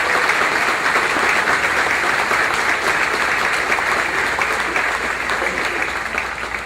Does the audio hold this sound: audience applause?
yes